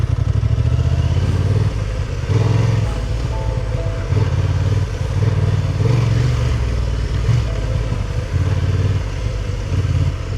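Honda Transalp 750 motorcycle riding offroad, a loud, close, continuous low engine rumble rising and falling with throttle, mixed with clattering over rough ground.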